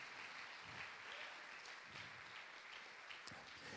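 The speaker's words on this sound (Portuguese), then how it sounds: "Agora você pode dar outra salva de palmas." A church congregation claps in a steady, dense wash of applause, moderately near and sustained throughout without speech.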